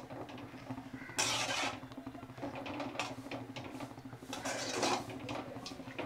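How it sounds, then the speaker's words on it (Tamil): Carrot halwa being stirred in a pan, a steady run of soft scraping and clinking with louder bursts of spoon against metal, close and continuous with no talk. "கிளறி விட்டுக்கிட்டே இருக்கணும்."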